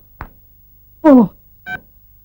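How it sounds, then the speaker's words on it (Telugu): Telephone keypad tones as a number is dialed in a comedy scene: three separate electronic beeps, the middle one longer and louder, over a faint hum. "ఈసారి నెంబర్ కరెక్ట్ కొట్టాలి"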